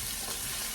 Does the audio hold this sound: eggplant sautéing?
yes